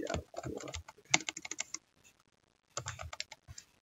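Typing on a computer keyboard to enter a terminal command, a close, quick run of key clicks in bursts with a brief pause in the middle before the typing resumes.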